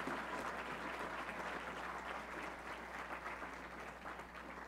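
A crowd in a school gym at a pep rally cheering state champions breaks into sustained, loud clapping that holds steady for several seconds before easing slightly.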